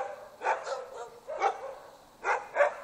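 Norwegian and Swedish Elkhounds bark at a kennel in about six sharp, mid-distance barks arriving in loose pairs, with short quiet gaps between them.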